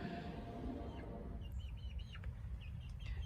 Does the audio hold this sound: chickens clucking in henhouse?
yes